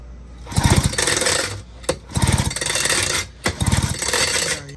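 A 77-year-old Johnson outboard motor turned over by hand three times, each pull giving a burst of rapid clattering compression pulses, loud and close, with quiet gaps between.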